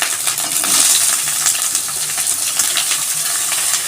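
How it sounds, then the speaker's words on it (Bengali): Ginger paste, chopped garlic, fried onion and green chillies sizzle for rajma, a loud, dense frying hiss with steady crackles and pops running throughout. "এটা ভালো করে ভেজে নেব।"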